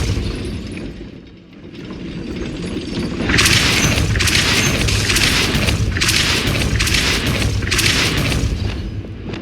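Repulsor spell blasts cast in Hogwarts Legacy to raise a gate, heard as a run of loud bursting whooshes with a mechanical, gear-like rattle. A quieter ambient stretch comes first, then the bursts arrive in repeated waves. No talking.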